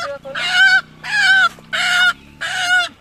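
A trapped jungle rooster gives four loud, harsh calls in quick succession, each about half a second long, close by with no talk over them.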